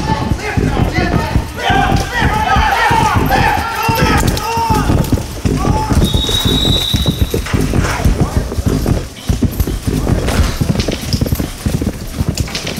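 Horse hooves clip-clop in a fast, steady rhythm during a bareback ride, close and loud, with voices calling out over the hoofbeats.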